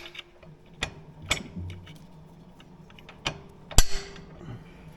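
A longer bolt being fitted through a crash bar on an Indian Sport Chief motorcycle, heard as a few sharp metallic clicks and knocks spaced irregularly, close and moderately loud, with light rattling between them.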